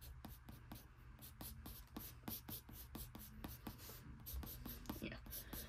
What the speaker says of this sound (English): I'm going to do a quick base sketch